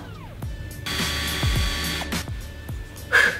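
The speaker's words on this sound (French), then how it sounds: "On fait un trou, il faut qu'il soit assez profond, mais pas trop non plus pour pas que ça perce le cadre." A drill bores a hole into a wooden plant-dryer frame in short bursts: a few brief whirring spins with knocks between them, close by, and a higher whine at the end.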